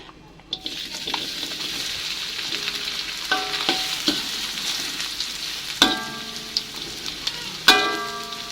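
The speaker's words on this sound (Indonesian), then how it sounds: "ini tempenya saya goreng setengah dulu" Oil sizzles and crackles steadily as tempeh fries in hot oil in a pan, with a few sharp clinks of a utensil against the pan now and then.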